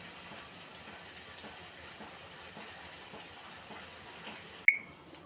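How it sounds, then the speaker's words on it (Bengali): Broth pours steadily into a pan of fish curry with raw papaya and potato, a soft continuous liquid gush that stops abruptly with a sharp clink near the end. "ঝোল দিয়ে দিব এবার।"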